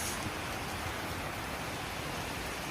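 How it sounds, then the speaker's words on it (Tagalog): Heavy rain on a rainy morning pours as a dense, even wash of hiss with no pauses, close and steady throughout. "Maulan na umaga guys."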